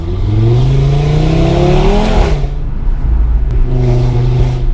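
A 2018 Audi RS3 engine revs up loudly, its pitch climbing, then drops and settles into a steady idle before swelling again, close by.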